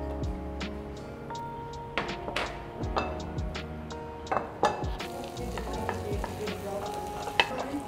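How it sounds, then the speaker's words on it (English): Butter sizzles in a hot pan while making chicken cordon bleu, a steady frying hiss under repeated clinks and scrapes of a utensil stirring against the pan, close and loud. "Add the butter."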